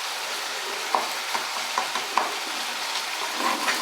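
Jaggery being stirred into a hog plum chutney, giving a steady wet scraping and mixing noise with soft clinks from the spoon against the pan at irregular intervals, close up, with no voices.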